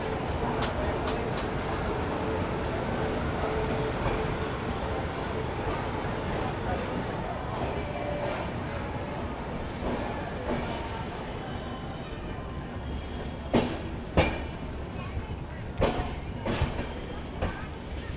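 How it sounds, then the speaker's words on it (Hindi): The Lucknow Pune Express passenger train pulls out of Jhansi Junction with a low, steady rolling rumble heard from inside, plus a few sharp knocks later, under quiet talk. "अब जाके हम लोगों की ट्रेन चल चुकी है झांसी जंक्शन से"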